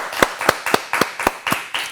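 Hands clap in a steady rhythm, about eight sharp, evenly spaced claps close by, with no talking.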